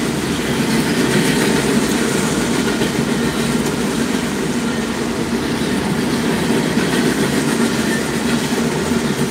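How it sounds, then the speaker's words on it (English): An empty Norfolk Southern coal train rolls past at Portage, Pennsylvania, a loud, steady, continuous rumble and clatter of wheels on rails close by, with no talking. "Watching an empty coal train."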